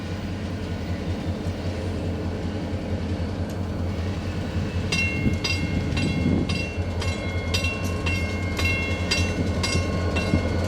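A Cincinnati Eastern gravel train rolls past between Plum Run and Afton, a steady low rumble of heavy cars with a run of rhythmic clicking wheel beats on the rail joints partway through.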